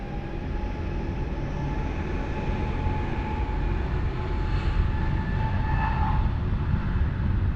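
A jet airliner rolling for takeoff on runway 20 at Lisbon Airport: a steady broadband engine roar heard from a distance, holding even and fairly faint with a thin whine riding on top.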